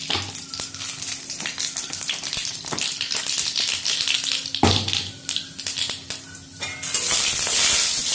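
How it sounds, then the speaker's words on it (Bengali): Mustard seeds fry in hot oil in a kadai, a close, steady sizzle scattered with sharp crackles and pops that build louder toward the end, with no voices. "এই কড়াইতে তেল দিয়ে দিয়েছি, সর্ষেটা দিয়ে দিলাম"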